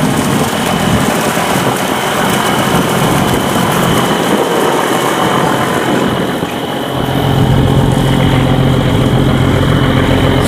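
A small boat engine runs steadily near barges at a saltwater-prevention sluice gate in Can Tho, a loud continuous drone that deepens partway through, with rushing water noise beneath.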